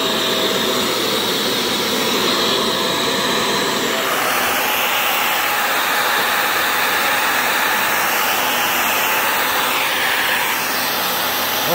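A Fantom Wildcat vacuum cleaner running on its first start-up, a loud, continuous high-pitched motor whine that shifts tone partway through and holds steady, with no talk.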